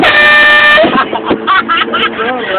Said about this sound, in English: Yo, alright, a little air horn.